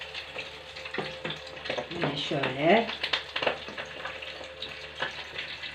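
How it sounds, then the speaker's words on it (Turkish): Steady sizzling and crackling of crispy chicken frying in hot oil, with a person speaking briefly over it midway. "Şöyle yağda kızartıyoruz."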